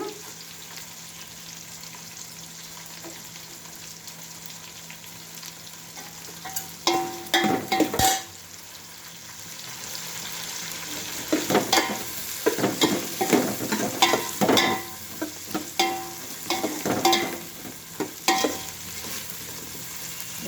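Curry leaves fry and get stirred in a hot pan for a pulao and fried rice seasoning mix, with steady sizzling under repeated scraping and clattering stirring strokes.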